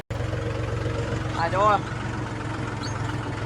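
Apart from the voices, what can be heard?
tractor engine running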